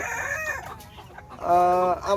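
Adult Malaysian show Serama chickens on a farm cluck briefly, then a short, shrill rooster crow rings out close and loud near the end.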